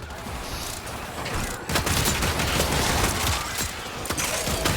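Detron pellet gun from Warframe firing, a burst of sharp, loud blasts with scattered metallic mechanism clatter that starts abruptly after a quieter opening and keeps cracking in uneven succession.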